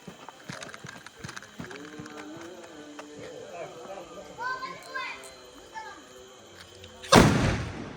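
A Diwali firecracker, a homemade desi cracker, goes off in one sudden loud close bang near the end, after a stretch of children chattering and small clicks.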